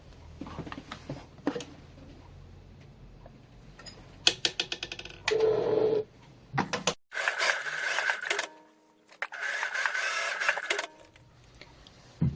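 Sewing machine stitching the lining of a 3D fabric face mask, heard in several short bursts of rapid mechanical whirring and clatter separated by pauses and handling noises.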